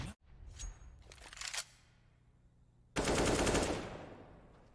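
Counter-Strike gunfire during a professional NAVI versus Spirit match on Mirage: short rapid bursts early, a quiet gap, then a loud sustained volley of shots.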